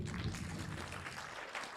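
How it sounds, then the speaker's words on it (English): Audience clapping for a speaker at a blue economy investment summit, a steady, moderately distant patter of many hands, with no one talking. "So we clap for him."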